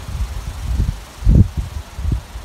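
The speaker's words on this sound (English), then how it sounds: "Let's wait for this wind" Gusty outdoor wind buffets the microphone in low, uneven rumbling bursts, one stronger gust in the middle, with no voices.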